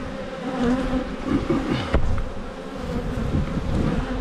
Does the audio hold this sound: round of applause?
no